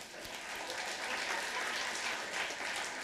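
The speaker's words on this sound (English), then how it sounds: "give yourself an applause" Parents in the audience at the Unsung Hero Awards at the San Francisco Public Library give themselves brief applause, a soft, even patter of clapping throughout.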